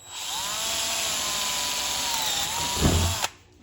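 A power drill with a bit cutting a hole runs at a steady high whine for about three seconds, its pitch dipping slightly under load before it stops abruptly with a short clunk.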